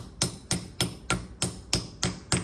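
A hammer drives a metal anchor point into place with seven sharp, evenly spaced blows, roughly two per second. Each strike is close and loud, with no talking.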